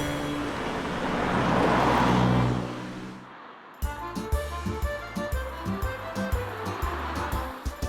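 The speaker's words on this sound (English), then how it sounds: "the brilliant sound of the turbo whistling and then the after noise of it burbling away once you come off the revs" A Lotus Esprit Turbo engine comes off the revs, a broad rushing whoosh giving way to a lumpy, rhythmic burble of exhaust pops near the car.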